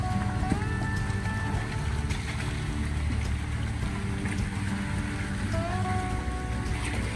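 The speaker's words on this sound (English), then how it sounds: "the sound of engines roaring and the tires gripping through the mud" Off-road convoy vehicles on a muddy, rain-soaked forest trail in the Ozarks, a continuous low engine rumble with churning, sloshing tire noise through thick mud, steady and fairly loud throughout.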